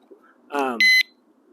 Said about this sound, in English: it'll warn, and then it will go off if it's got all that vibration. That's a warning.